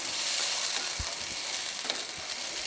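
Masala with salt, chili and turmeric powder sizzles steadily in a pan, a close, even frying hiss with a few soft stirring knocks.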